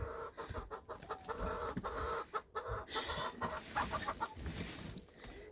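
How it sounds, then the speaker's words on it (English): A chicken clucking in homestead nest boxes, close, with a run of soft, irregular clucks and murmurs alongside rustling and handling noises. "I do have a chicken in them."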